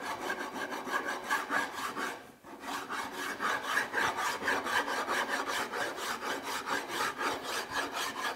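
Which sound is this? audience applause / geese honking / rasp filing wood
rasp filing wood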